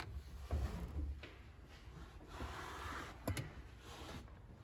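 Interior trim panel on a Chevy Suburban being pulled loose by hand near the door, giving a few close plastic creaks and clicks with one sharper snap partway through.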